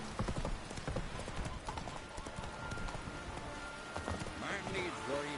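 Roach the horse galloping in The Witcher 3, rapid rhythmic hoof clip-clops close by throughout, with a voice talking over the hoofbeats near the end.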